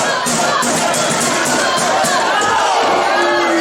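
A loud, dense wrestling crowd in a cage-match venue cheers and shouts continuously for a tag team, the roar steady throughout with scattered individual yells.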